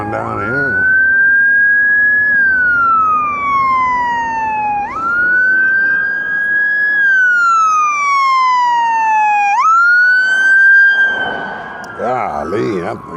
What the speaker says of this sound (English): Hell, I hear a siren.